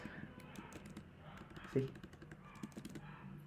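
Typing on a new laptop keyboard, a steady patter of light key clicks with one sharper knock midway, heard under a man's brief speech.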